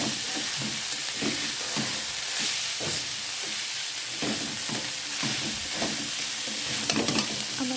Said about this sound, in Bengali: রান্নাটা উঠিয়ে আমি একটু নাড়াচাড়া করে নিচ্ছি